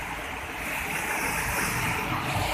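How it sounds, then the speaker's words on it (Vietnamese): A mountain stream beside a riverbank fishing and cookout spot, its water rushing in a steady broadband wash that stays loud and constant throughout, with no talk over it. "Còn đây là suối"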